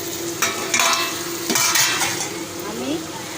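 Tomatoes cook in a pan with a soft steady sizzle, punctuated by a few scraping stirs and light clinks of a utensil against the pan, close up and with no talking.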